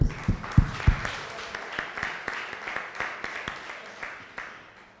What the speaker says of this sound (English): let's give Brother Brown, Brother Sterling A. Brown, a round of applause